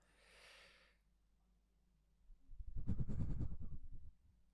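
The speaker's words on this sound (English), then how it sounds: "That was me breathing" A soft exhale is followed by a louder, rougher breath, close to the microphone, then quiet.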